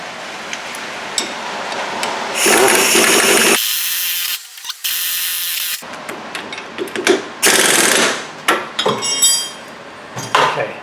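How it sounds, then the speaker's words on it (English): Impact wrench driving the lower strut nut on a 2006 Chevy Cobalt front strut assembly: several loud, bursty hammering runs of a second or so each, separated by pauses and short clicks, with no talk. "now we're going to shoot in the lower nut"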